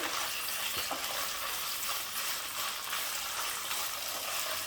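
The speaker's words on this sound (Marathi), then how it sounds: "आता हा पनीर जो आहे तो हलकासा आपल्याला फ्राय करून घ्यायचा आहे" Paneer fries lightly in oil in a pan over a medium-high flame, giving a steady, even sizzle that carries on unbroken with no voices.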